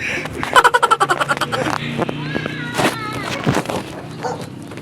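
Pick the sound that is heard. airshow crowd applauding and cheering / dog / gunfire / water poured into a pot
dog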